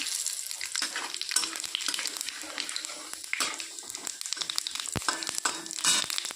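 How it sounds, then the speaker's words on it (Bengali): Red chillies and whole cumin seeds fry in hot oil, giving a dense, continuous crackling sizzle with occasional stirring scrapes, close and moderately loud, with no talking. "একটু ভাজতে হবে লাল লাল করে লঙ্কাগুলোকে গোটা জিরে"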